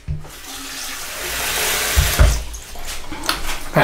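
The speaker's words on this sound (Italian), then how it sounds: "Vado a risciacquarlo con acqua fredda" Cold water running from a tap as a face is rinsed after a traditional wet shave, a loud gushing rush with splashing bursts and a few bumps.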